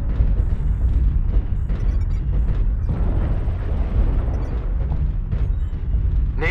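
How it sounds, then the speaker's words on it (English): Artillery strike explosions in the mech combat game MechWarrior Online, a dense continuous rumble of booms and blasts with heavy low-end roar and occasional sharper bursts, loud and sustained. "Artillery strike online."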